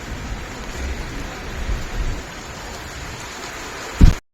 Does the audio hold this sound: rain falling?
yes